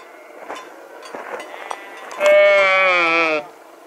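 A single sheep lets out one loud, wavering bleat close by after some faint rustling and scattered small sounds, near a reservoir in Sirdal, Norway.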